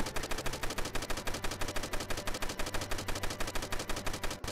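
Rapid automatic gunfire from shooting zombies in a Roblox game, a steady, evenly spaced burst of shots running throughout at moderate level with no talk.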